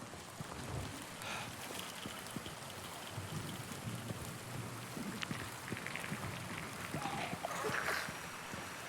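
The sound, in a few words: rain in the video game Silent Hill 2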